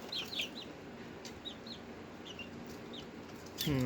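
Quiet clucking from a small flock of backyard chickens: brief, scattered calls come in clusters, and a louder, lower sound enters at the very end.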